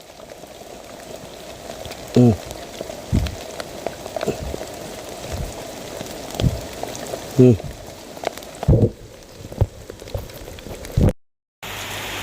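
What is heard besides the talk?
rain falling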